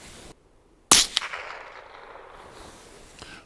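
A single sharp crack of a suppressed .22LR rifle shot, a brief loud snap followed by a short decaying ring, with quiet outdoor ambience before and after.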